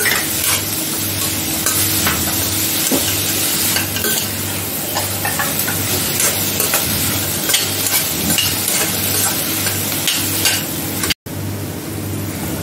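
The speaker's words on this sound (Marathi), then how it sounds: "घेतलेली शिमला मिरची आहे ती पण टाकते, आणि 2 मिनिटं चांगले परतून घेते" Capsicum, onion and tomato sauté in a hot pan for a Maggi masala, giving a loud, continuous sizzle with steady spatula scraping and stirring close by throughout, and no voices.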